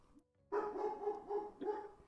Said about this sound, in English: my dog begins barking from upstairs